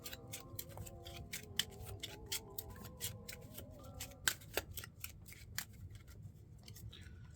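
Cards from a discard pile being shuffled during a tabletop game: a quiet run of crisp, rapid riffling clicks and flutters, close but faint, with no talk.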